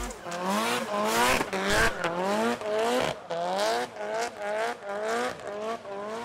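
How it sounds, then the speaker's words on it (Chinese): A Nissan Silvia S15 drift car with a 2.2-litre stroked SR20 engine and turbo kit drifts, its engine revving in repeated rising surges while tires screech in loud, wavering squeals, with a voice talking over it. "优美带着刺耳的声音，展现均速的漂移"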